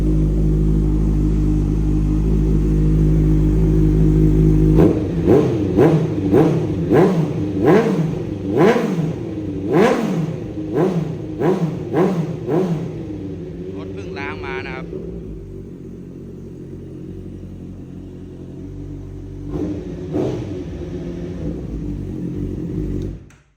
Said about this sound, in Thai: เดี๋ยวสตาร์ทให้ฟังนะครับ สตาร์ทติดง่ายนะครับ